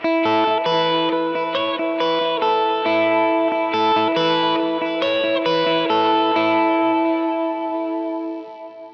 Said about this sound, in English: can also just play light with the pick and it adds a little more attack.